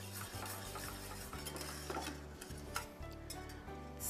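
A spoon stirring rice pudding thickened with cornstarch in a pot as it nears the boil, with steady scraping and soft clinks over a low bubbling hum, close and continuous with no talk.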